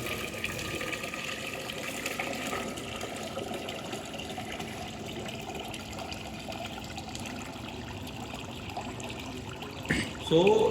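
Water trickles and drains steadily from a Frigomat FR260 batch freezer being cleaned, a low continuous flow heard up close with a brief louder gush near the end.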